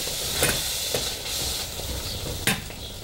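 Steady sizzling in a pot of black bean soup with bacon and calabresa sausage, with a few scraping strokes of a spoon stirring through the food, no voices.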